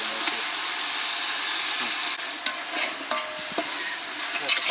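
Stone-ground ginger-garlic paste and ground chili paste fry and are stirred in a pan for a village-style quail curry. A close, steady sizzle and hiss is broken by scraping stir strokes, with no talking.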